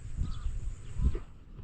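Crows cawing outdoors near a papaya tree: two or three rough, low calls a short way off, separated by quiet, faint against a light background hiss.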